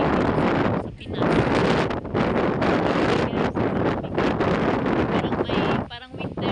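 Strong wind roars and buffets the microphone almost continuously on a beach in Roxas City, Capiz, Philippines, with brief lulls, and a voice can be heard speaking under the gusts.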